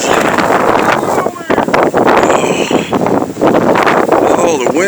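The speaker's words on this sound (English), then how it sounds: "oh, the wind." Strong wind roaring and buffeting the microphone during a February blizzard in Bangor, Maine, loud and continuous with gusts, with voices faintly mixed in.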